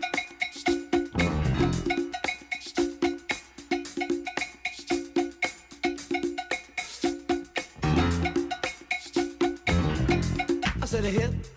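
An early hip-hop record plays back with a punchy bassline, handclaps and bright percussion in a steady, bouncing groove, loud and full.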